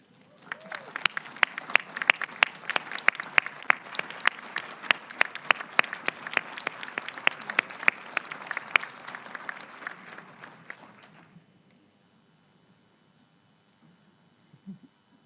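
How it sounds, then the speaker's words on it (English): Graduates and guests at a college of education fall commencement break into a long burst of applause, dense rapid clapping from a crowd that holds steady for about ten seconds, then stops abruptly, leaving near silence. "give them a huge round of applause"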